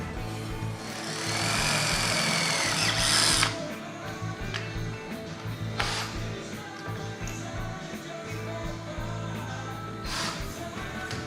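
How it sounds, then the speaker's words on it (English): A power drill with a step drill bit whines and grinds into metal in a loud burst, then stops, followed by quieter mechanical clicks and short drill spurts. "we've got a step drill that works really well for this"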